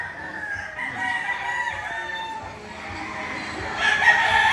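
Several roosters crow at a market in Padre Garcia, Batangas, overlapping calls rising over background chatter and clucking, louder toward the end.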